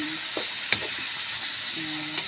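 Chicken sautéing in a pan for tinola, a soft background sizzle with a few clinks and scrapes of a utensil against the pan, quiet and close, no speech.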